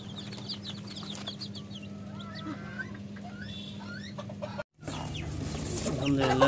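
Chickens cluck and chirp at the Joypurhat Shoukhin poultry farm in a busy, layered chorus over a low steady hum. The sound drops out briefly, then returns louder with more squawking.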